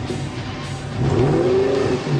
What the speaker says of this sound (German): Dann wollen wir den Motor ja auch mal hören